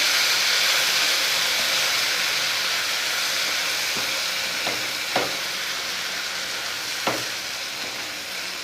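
Silver fish in mustard paste fries loudly in a pan on a lowered gas flame, a dense continuous sizzle with a few sharp stirring clinks and taps, no voices.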